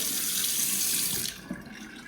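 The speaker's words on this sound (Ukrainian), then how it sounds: "Бачите, набирається водичка." Water running from a tap into a sink in a Canadian home, a steady splashing rush that cuts off abruptly partway through, followed by a couple of faint knocks.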